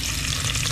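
Onion and garlic fry in a pan with a constant bright sizzle, close and steady for a brief moment.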